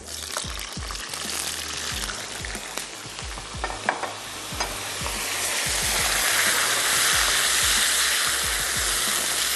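Steady sizzling of food frying in a pan, with repeated scraping and stirring knocks; the hiss swells louder and brighter toward the end.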